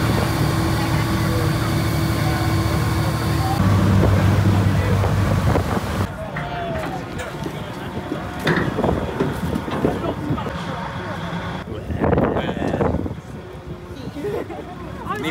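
A boat engine at sea drones steadily over gusty wind buffeting the microphone, with people talking now and then over the noise.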